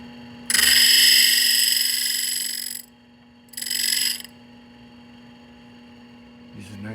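A reamer is fed past a grinding wheel for sharpening, making a loud, bright, steady grinding whine for about two seconds, then a shorter second pass, all over a constant machine hum.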